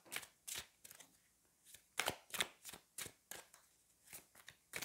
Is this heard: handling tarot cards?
yes